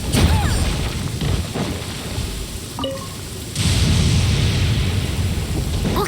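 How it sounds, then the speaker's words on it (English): Thunderstorm in the video game Genshin Impact: a loud, steady roar of rain and rumbling thunder fills the whole stretch, swelling louder partway through, with no talking. "thunder's so loud."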